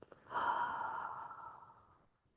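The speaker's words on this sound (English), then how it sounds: "take a deep inhale through the nose and a slow exhale through the mouth" A single slow exhale through the mouth during a yoga breathing exercise, soft and breathy, swelling quickly then tapering off over about two seconds, close and alone.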